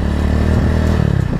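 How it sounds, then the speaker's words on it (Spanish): An Italika 250Z motorcycle, bored out from 223 cc to 250 cc, runs close and loud while being ridden, a rough, pulsing engine rumble with slight clatter and no talk. "esta moto es en sí esta que estoy manejando"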